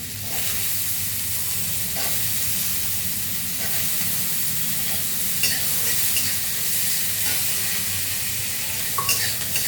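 Potatoes sizzle steadily in hot oil, added alongside drumstick leaves being fried; a dense, continuous hiss with faint scraping stirs, fairly loud and close, with no talking.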